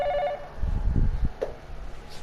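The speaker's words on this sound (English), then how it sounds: "The phone rang, cutting him off before he could get down to business." In the video game 428 Shibuya Scramble, a telephone rings with a short burst of trilling electronic tones at the start, followed by low thumps and a brief chime.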